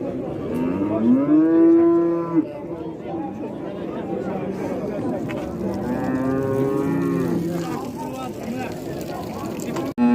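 Cows moo loudly nearby at a livestock market in Özgön, Kyrgyzstan, one long call then another later, with people chatting in the background.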